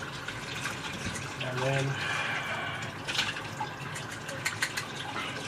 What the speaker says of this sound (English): You just lift the plunger out and then you rinse it off in the sink and pour out.